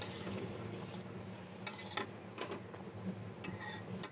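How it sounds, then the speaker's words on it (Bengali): A snake gourd dish being stirred in a pan over low sizzling, with a few light ticking spoon scrapes against the pan, close and fairly quiet, no voices. "এখন ভালো করে নেড়ে চেড়ে"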